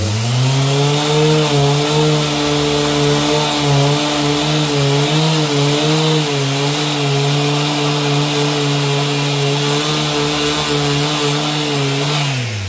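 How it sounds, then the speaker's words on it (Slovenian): A random orbital sander fitted with 180-grit sandpaper smooths the sides of a square oak bowl, giving a steady, loud motor drone with a slightly wavering pitch that runs continuously and alone throughout. "Zdaj gor imam nameščen 180 granulacijo šmergelj papir in lahko pošmergam."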